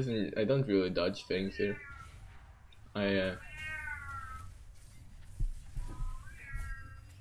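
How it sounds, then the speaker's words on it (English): A pet cat meows several times, loud and close, in a run of quick meows followed by a longer drawn-out one and a few fainter calls, while someone talks over a quiet game soundtrack. "That's my cat."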